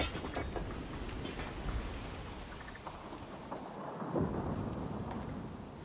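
Deep rolling thunder rumbles at a distance in the Dying Light: The Beast game world, a low sustained roar with soft rain-like hiss beneath, building slightly toward the end.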